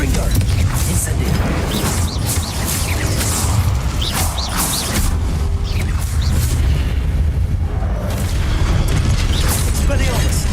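Spell blasts from Confringo and Incendio crackle and boom in Hogwarts Legacy, a continuous, loud barrage of bursts and fiery rushes with mechanical clatter throughout.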